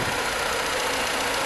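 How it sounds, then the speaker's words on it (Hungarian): A Ford Ka with a 1.3 engine idles steadily nearby, a continuous even hum with a faint ticking texture and no talk over it. "tényleg csendes jár benne ez az új Ford motor"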